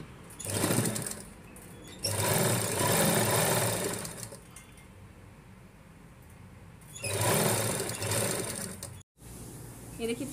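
A sewing machine runs in several bursts of steady, close mechanical whirring and stitching while a dress shoulder seam is sewn, with pauses of quieter hum between runs.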